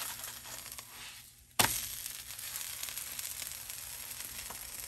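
Akki rotti, a rice flatbread cooked with butter, flipped in a hot pan: a sudden loud sizzle as it lands, then a steady, fairly faint hiss and crackle of frying with no talk.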